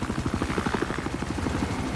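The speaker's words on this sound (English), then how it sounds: "eyes on an enemy helicopter." Helicopter rotor chopping steadily throughout, a loud rhythmic thudding with engine whine above it, heard from close by in Battlefield 4, an enemy helicopter.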